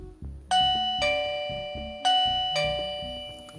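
An ANNKE wireless doorbell chime rings out twice, each a bright two-note ding-dong with ringing tones that decay slowly, loud and close.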